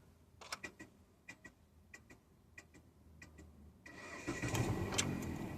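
Car engine start: a series of sharp starter solenoid clicks in an irregular rhythm, then the engine catches with a louder, rougher rumble near the end.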